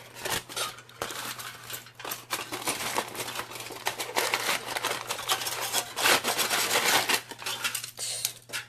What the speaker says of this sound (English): So I'm going to punch 2 more times and then move on.